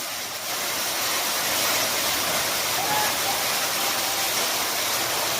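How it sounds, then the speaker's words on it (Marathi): Heavy hail pounds down during an evening storm on the Satana–Malegaon road in Satana, Nashik district, a loud, dense, unbroken roar of pelting ice that fills the whole stretch without pause. "प्रचंड मोठ्या प्रमाणावर गारपीटीला सुरुवात झालेली आहे"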